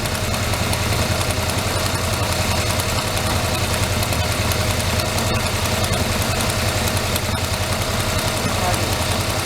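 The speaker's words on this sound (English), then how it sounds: "Alright, you're listening to it, it's idling." A swapped engine in a Chevrolet S10 truck idles steadily with a low, even rumble and a constant mechanical vibration throughout, with no other sounds.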